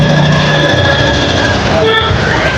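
A Butterfly JD1080Q sewing machine runs at full speed, giving a loud, continuous mechanical whir and rattle close by, steady throughout with faint tonal hum.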